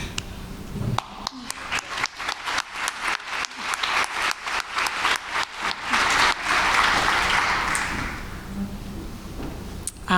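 Audience applause for a conference committee standing up at the 2024 OAIA Conference, starting as a few claps then swelling into a full room of sustained, dense clapping that gradually tapers off.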